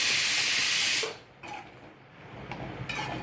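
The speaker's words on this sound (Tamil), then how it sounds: "இப்போ பார்த்தீங்களா குழம்பு எப்படி கொதிச்சு வந்துருச்சுன்னு" Garlic kara kuzhambu curry in a pot gives a loud hissing burst of steam for about a second, then settles into a soft, low bubbling simmer.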